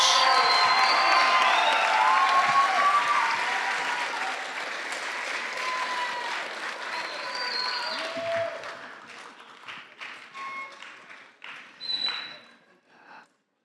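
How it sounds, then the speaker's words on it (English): A large audience at a graduation ceremony breaks into loud, sustained applause and cheering with scattered shouts, then gradually thins out into a few last claps before fading to quiet. "Can I get a big round of applause for these people that achieved so much?"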